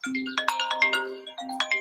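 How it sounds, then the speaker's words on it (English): A phone rings for an incoming call with a bright, chiming melodic ringtone. It plays clearly and close for a couple of seconds, with a short break midway and no talking. "I'm getting a phone call real quick."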